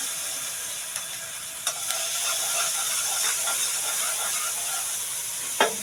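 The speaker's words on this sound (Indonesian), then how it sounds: "Lalu kita tuang tadi kunyit yang udah kita haluskan." Ground turmeric paste hits a little hot frying oil in a home kitchen pan, giving a steady broad hiss and sizzle with a few sharp clicks and pops, no voices.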